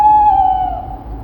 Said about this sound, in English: all of a sudden I hear the screech owl calling outside